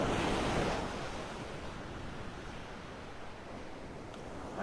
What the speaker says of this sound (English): when there's waves breaking